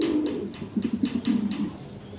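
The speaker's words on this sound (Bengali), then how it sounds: "এক পিস আমরা মুন্ডিয়ান কবুতর দেখতে পারতেছি, ব্ল্যাক চেকার কালারের ভিতরে" Large black-checker Mundian pigeons give a run of soft, deep, rolling coos that pulse in a steady rhythm, close by and clear, with no talking.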